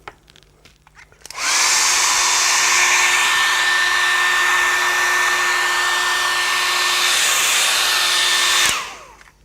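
A hair dryer blows over a landscape painting to dry the sky and a distant mountain, a loud steady whir that starts abruptly, holds for about seven seconds, then cuts off.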